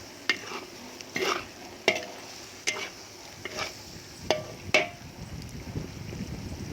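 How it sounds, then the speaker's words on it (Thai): A spicy frog curry is stir-fried with pea eggplants, fingerroot and long pepper, making rhythmic scraping strokes roughly every second over a soft, steady sizzle, close and alone. "ผัดให้เข้ากันนะคะ"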